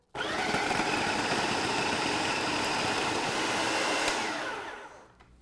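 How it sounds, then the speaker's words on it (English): A food processor purees a mixture into a sticky paste, its motor starting abruptly and whirring as a steady, loud, even drone for about four seconds before winding down to a stop. "And this you want to puree until it makes a nice sticky paste."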